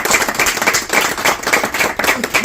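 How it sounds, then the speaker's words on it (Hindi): Loud, dense clapping from a crowd fills the whole moment at a swearing-in ceremony, brisk and close with no pause. "भाई सुनील जी के लिए जोरदार ताली है।"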